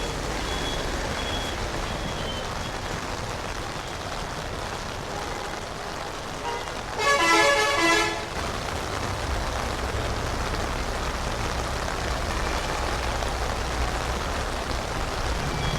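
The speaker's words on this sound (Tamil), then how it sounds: "இதில் எல்லாம் வாகனங்கள் டிராஃபிக் ஆகிட்டுது" Vehicle traffic on a flooded town street in Jaffna: a steady wash of engines and water under rain, with a brief burst of reversing beeps in the middle, no voices.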